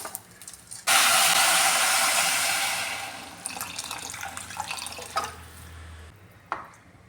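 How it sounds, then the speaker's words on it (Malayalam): Water pours into a pot of ghee-fried rice for chicken biryani. A loud, rushing gush runs for a couple of seconds and then thins into scattered drips and small splashes, close by, with no talk. "ഇനി ഇതിലേക്ക് വേവാൻ ആവശ്യത്തിലുള്ള വെള്ളം ചേർത്ത് കൊടുക്കാം"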